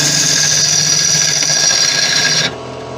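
Wood lathe hollowing out a Balinese teak vase, a loud close steady whine with a high squealing tone from the tool on the spinning wood that cuts off abruptly near the end, leaving a lower hum.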